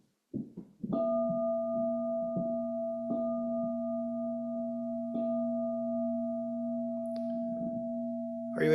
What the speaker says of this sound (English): When we start, I'll ring the bell 3 times.